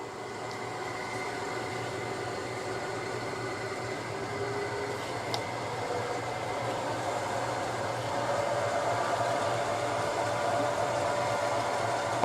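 A drill press runs at about 400 RPM with a steady, even motor hum and faint whine, holding constant throughout and rising slightly toward the end, with no voices.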